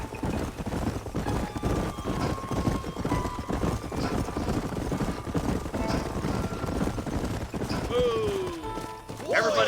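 Horses gallop with dense, rapid hoofbeats in the Western video game Red Dead Redemption, the clatter continuous and close while voices talk over it, ending with a whinny.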